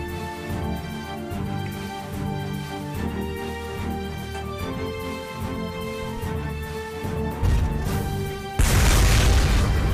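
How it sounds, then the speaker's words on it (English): A heavy cannon blast booms out in the Front Mission 4 mech battle in Paris, a loud burst landing near the end over a steady backdrop of in-game music. "He's attacking me with a cannon"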